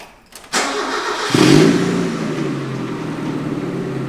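A cheap Mazda Miata being started after an O2 sensor was plugged back in: a short cranking burst, then the engine catches with a loud flare and settles into a steady, close idle.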